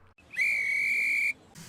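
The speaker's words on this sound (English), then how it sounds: "The guard blew his whistle" A guard's whistle blown on a railway platform just before a train departs: one sharp, steady, shrill blast lasting about a second, loud and close, preceded by a faint brief chirp.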